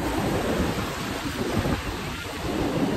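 Sea waves at Ganpatipule beach on the Konkan coast, a steady broadband roar of surf that washes continuously and close by, with no voices.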